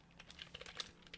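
Quick, quiet keystrokes on a computer keyboard, an irregular patter of light clicks close by with no talking.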